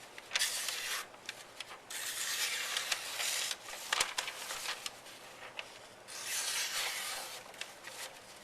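A freshly sharpened Takeda knife slices through newsprint in several raspy, papery strokes, each a drawn-out hiss with short pauses between cuts, close and moderately loud.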